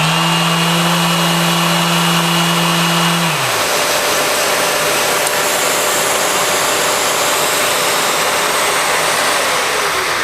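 A Mirka sander switches on and spins up to speed, its steady high whine running loud and close after a short tonal start.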